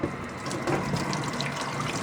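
Cold water running from a tap into a container, a steady close gushing and splashing stream with no pauses.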